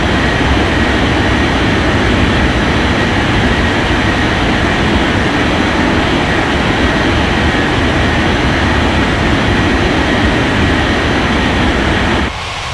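An airliner's jet engines roar steadily on the runway during takeoff in an air traffic control game, a loud, continuous broadband rumble that holds for about twelve seconds before dropping off abruptly.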